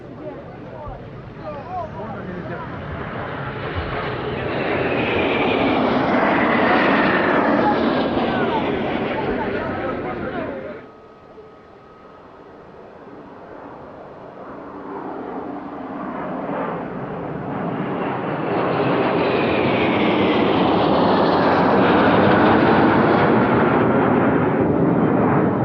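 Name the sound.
Yak-130 fighter trainer and light attack aircraft flypast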